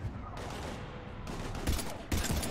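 Gunfire in Mass Effect 3 during a battle on Earth against husks: several sharp bursts of rapid shots ring out close and loud, clustered near the end of a short stretch of combat noise.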